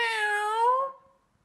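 A cat indoors gives a single drawn-out meow, close and clear, rising slightly before trailing off into quiet after about a second.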